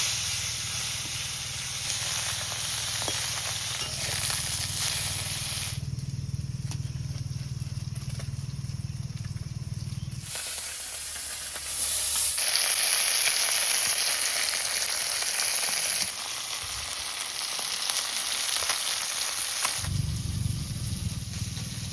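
Khoira fish frying in a pan with oil, a steady loud sizzle and hiss that runs throughout, shifting in intensity as pieces settle, with no talking.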